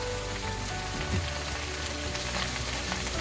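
Bok choy being stir-fried in a hot pan with salt and soy sauce, giving a continuous dense sizzle with light scattered stirring scrapes, close and steady throughout.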